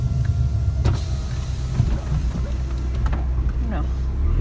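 An Abarth 595 idles as its electric windows whir open, a low motor hum under road rumble, with people talking nearby throughout.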